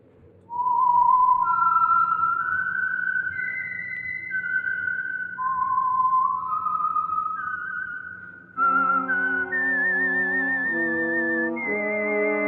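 A lone whistler carries a slow, wavering signature melody, the theme that identifies the Signal Oil radio program The Whistler; a sustained orchestral chord swells in beneath the final phrases, loud and close with no talking.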